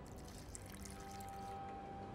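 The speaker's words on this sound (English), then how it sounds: "Just pours water on the paper 4 times and it catches on fire." Quiet, continuous pouring of water onto paper in The Witcher 2, a soft dribbling stream held at a low, even level throughout.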